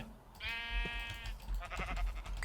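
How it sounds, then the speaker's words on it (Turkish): Sheep bleating in Minecraft, two or three short nasal bleats in quick succession, fairly close and clear over a quiet background. "Sınırsız koyunumuz var zaten."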